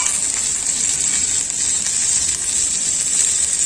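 Boiled potatoes fry in a pan for a Bhedailota (skunk vine) curry, with a continuous close-up sizzle and dense crackle held at an even level the whole time, free of any talk.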